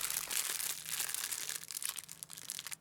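Thin disposable plastic bags crinkle and rustle steadily up close, a dense crackling texture that eases slightly toward the end, with no voices.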